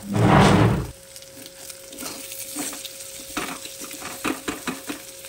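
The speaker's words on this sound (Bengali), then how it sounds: "ডিমটাকে এভাবে করে নেড়ে ঝুরি ঝুরি করে নেব" Egg being stirred and broken into small crumbly bits in a frying pan for leftover-rice fried rice, opening with a loud sizzling burst, then softer repeated scraping and stirring strokes under a low steady hiss.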